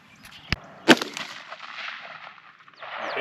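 A .50 Beowulf rifle fires outdoors: a sharp crack, then a louder boom a moment later, each fading into a brief echoing tail with no talk.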